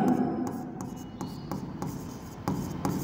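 A pen scratches across a board during a commerce lesson on company liquidation, giving steady close strokes with a few sharper taps over a low room hum.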